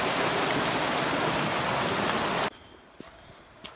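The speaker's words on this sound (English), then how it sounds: "I still hear the river" A river rushes steadily beside a mountain hiking trail on the way to the Bridge to Nowhere, a loud continuous broadband wash that cuts off abruptly partway through, leaving a much quieter background with a few faint knocks.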